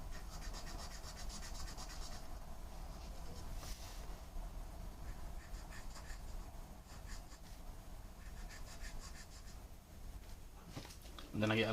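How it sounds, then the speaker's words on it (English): Pencil shading on paper while drawing a tattoo-style Hannya mask, a steady soft scratchy rubbing that runs close and continuous at low level for the whole stretch, with a brief louder knock at the very end. "With pencil you can just shade this out."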